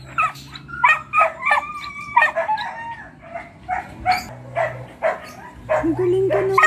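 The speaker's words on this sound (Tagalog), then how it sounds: "First time niya tumahol." A dog recovering from distemper barks repeatedly amid rooster crowing and other farmyard sounds, with irregular bursts over a steady low hum.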